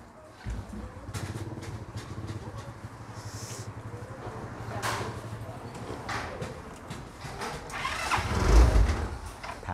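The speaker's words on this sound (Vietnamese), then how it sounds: "Bây giờ mình tiến hành mình nổ máy để anh em cũng tham khảo qua cái hiện tượng của xe này." A Suzuki Luvias GTX car with an idle control (ISC) valve fault is cranked and its engine catches, settling into a rough, uneven idle with a louder surge near the end, recorded up close.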